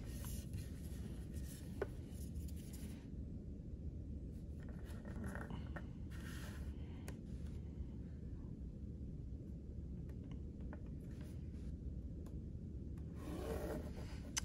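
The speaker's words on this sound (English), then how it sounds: "connect the legs of your dart by drawing your line" A pen or marker scratching along a ruler across fabric while marking a sewing dart line, a faint steady rubbing and scraping that carries on for several seconds with short pauses between strokes.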